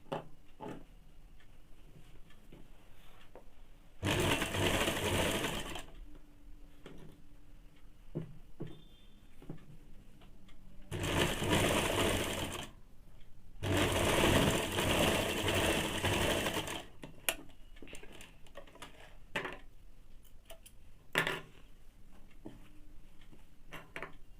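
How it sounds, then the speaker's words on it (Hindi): A sewing machine stitches a Bombay cut blouse in three loud close-up bursts of steady running, one brief and two longer, with quiet handling and faint ticks in between. "फिर इसको 1/2 इंच पे सिलाई कर लेंगे"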